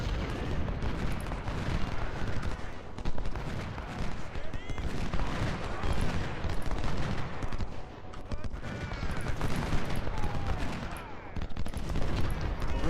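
Cannon and artillery fire in the Civil War strategy game Ultimate General: Civil War, a dense, continuous barrage of overlapping booms and crackling shots rolling across the whole stretch, with someone talking over it.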